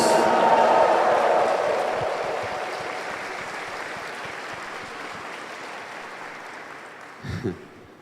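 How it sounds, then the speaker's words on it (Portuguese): Church congregation applauding at an evening Mass homily, a dense crowd clapping that starts loud and gradually fades over several seconds, with a brief voice near the end. "Uma salva de palmas para Jesus."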